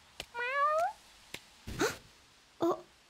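A black cat meows three times, first a long rising meow, then two shorter ones spaced out, each close and clear, with a few soft clicks in the quiet between.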